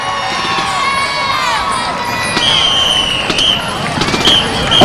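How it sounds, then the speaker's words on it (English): Crowd noise in the stands at a Waynesville vs Rolla varsity high school football game, with broad steady cheering and applause for the homecoming court. Whistles and shouts rise above it, and the roar swells slightly toward the end. "Let's give a round of applause to our homecoming court."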